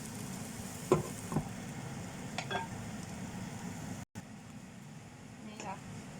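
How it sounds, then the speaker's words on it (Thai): Ingredients for Thai nam prik chili paste dry-roasting in a pan, a faint steady sizzle with occasional stirring scrapes and clinks, close but quiet beneath a low room hum, with a voice talking at times. "เดี๋ยวเราคั่วไปอีกนิดนึงค่ะ"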